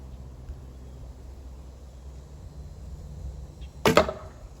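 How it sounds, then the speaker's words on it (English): A 400-grain arrow loosed from a 40-pound hunting bow gives a single sharp, close release snap with a short whoosh near the end, set against a quiet outdoor background hum. "400 grain arrows, 40-pound bows, three of them. Three shots per bow."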